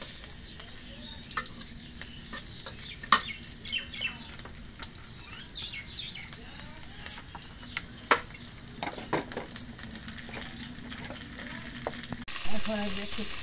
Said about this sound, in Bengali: মরিচ পেঁয়াজ দিচ্ছি আর তেল দিই।